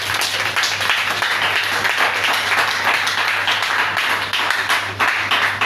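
A church congregation claps and applauds continuously, a dense even wash of many hands that holds steady and loud throughout, with a low steady hum underneath.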